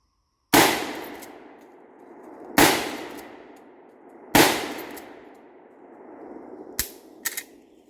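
Lever action of a Remington-era Marlin 336 rifle cycled three times in crisp, loud metallic clacks spaced about two seconds apart, each ringing briefly, followed by two lighter clicks near the end.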